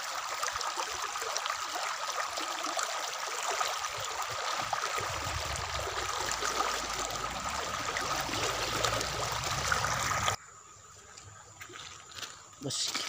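Clear stream water flows and trickles steadily nearby while searching for crystal stones in Indonesia, with someone speaking briefly over the constant rushing.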